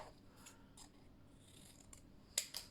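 Scissors trim paper for handmade paper jewelry, giving a few faint, soft snips near the end of a quiet stretch.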